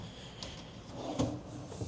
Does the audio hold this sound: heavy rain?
no